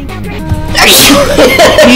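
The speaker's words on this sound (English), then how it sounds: "You sneezed on me again!" A single loud cartoonish sneeze from a character in the video game Friday Night Funkin' with the Shaggy mod, a short intake followed by a bright burst that fills the clip.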